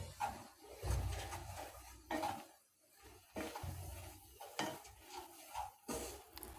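A utensil stirs and scrapes gram flour and sugar roasting in ghee in a pan on a stove, with soft intermittent scraping and clinking of metal on the pan, fairly quiet and without speech.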